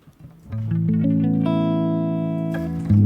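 A dry electric guitar with a clean tone and no reverb, run through Blue Cat Axiom software, builds a chord note by note from a few soft plucks into a loud sustained ring, with a fresh strum at the end.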